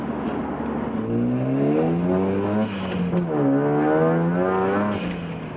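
A 1994 Mazda RX-7 turbo revs hard under acceleration, pitch climbing steadily, dipping briefly on a shift and then rising again, loud and close with no talk over it.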